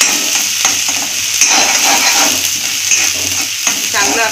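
Green chillies and crushed garlic roast in a hot pan, producing a close, steady sizzle broken by the scrape and clatter of stirring, with a faint voice briefly underneath.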